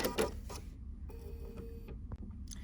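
BERNINA sewing machine fitted with the #55 Leather Roller back tacking, a quiet mechanical whir with rapid ticking needle strokes and small clicks over a couple of seconds, close and faint.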